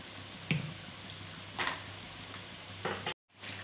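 Suran (elephant foot yam) sabzi fries with coriander, garam masala and black pepper in a pan: a quiet, steady sizzle with a few soft stirring clinks, then a brief cutoff near the end.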